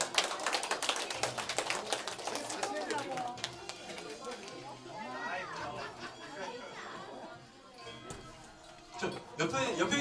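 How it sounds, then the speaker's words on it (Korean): Guests clap at a Korean 70th birthday banquet, a burst of sharp claps at first that thins into scattered clapping amid lively chatter and talking across the banquet hall. "박수 한번 보내주세요."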